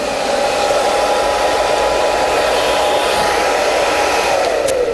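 A hair dryer runs steadily and loudly throughout, a constant close whirring blow with no pauses and no talk.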